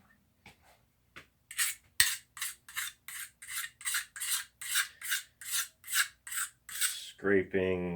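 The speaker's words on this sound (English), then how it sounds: "Scraping the red paint that was on this piece." Red paint is scraped off an old chrome window trim piece from an Opel GT door: a few light taps, then a steady run of about a dozen rhythmic rasping strokes, close and crisp, with a brief voice at the end.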